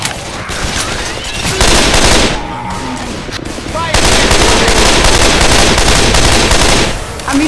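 Sustained automatic gunfire rattles loudly in the zombie shooter Left 4 Dead 2, long dense bursts with a brief lull in the middle, while players call out over the shooting.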